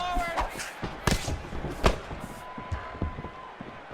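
Punches and kicks land with heavy thuds in EA Sports UFC 4 during a bout between Bruce Lee and Alistair Overeem, several sharp impacts spaced across the moment over crowd and arena ambience.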